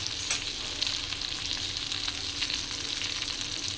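Stuffed brinjals fry in a pan with masala, giving a loud, continuous crackling sizzle close by, with light stirring texture throughout.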